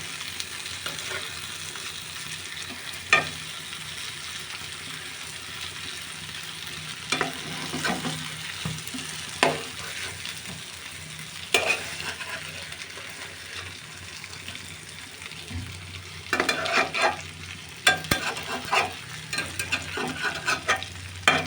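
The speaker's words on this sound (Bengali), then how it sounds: "এভাবে কম জাল দিয়ে দিয়ে উল্টে পাল্টে এপাশ ওপাশ করে ভেজে নিতে হবে।" Eggplant slices fry slowly over low heat in a pan, giving a steady close sizzle broken by short scraping bursts as the pieces are turned and stirred; no one speaks.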